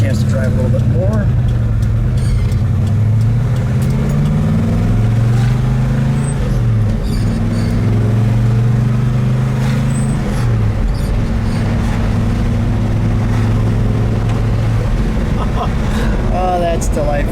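A red 1969 Oldsmobile F85 W-31 with a 350 V8 and four-speed manual pulls hard through the gears, loud rising revs with shifts in between, heard from inside the car with people talking over it.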